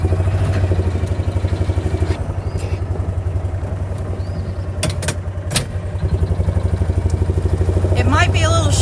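A Mule utility vehicle rides through the woods, its engine putting in a loud, steady rhythm with occasional rattles and bumps, heard from on board.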